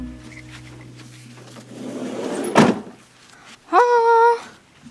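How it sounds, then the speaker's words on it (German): A door slammed shut quickly at night, a sharp thunk in the middle over steady room hum, followed shortly by a bright ringing harmonic tone. "schnell Tür zu"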